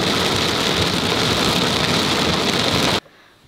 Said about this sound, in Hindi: और बहुत ज़्यादा तेज़ तेज़ बिजली भी कड़क रही है।